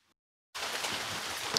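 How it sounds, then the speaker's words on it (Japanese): Rain falls while driving: after a moment of near silence, a faint, steady hiss of rain sets in abruptly and continues evenly, with no voices. "雨の日の運転は疲れますね。"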